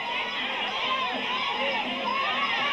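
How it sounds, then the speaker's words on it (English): Loud, very vocal crowd noise at a kickboxing fight between Changpuek Kiatsongrit and Rick Roufus, a dense continuous roar of shouting and cheering filling the whole stretch, with no pauses. "Crowd very vocal in the background"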